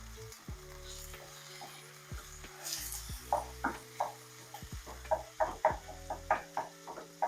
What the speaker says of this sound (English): We're going to start to break up our beef.